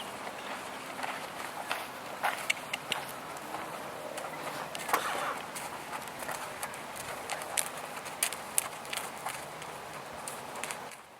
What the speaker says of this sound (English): walking her horse in just as if she was walking it into a horse trailer